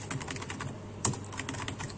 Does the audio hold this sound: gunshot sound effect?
no